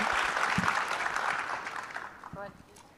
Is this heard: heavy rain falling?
no